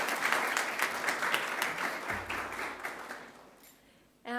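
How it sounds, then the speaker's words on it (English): A school sports awards assembly audience claps for rugby players, loud dense applause from a crowd that swells, then fades out over a few seconds. "Give them a round of applause."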